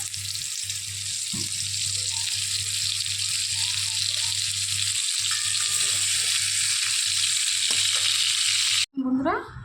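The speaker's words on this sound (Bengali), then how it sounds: "এবার উল্টো পাল্টে একটু ভেজে নিই।" Rohu fish paturi wrapped in gourd leaves fries in oil with a loud, steady sizzle and occasional clicks as the parcels are turned, cutting off abruptly near the end before a brief voice is heard.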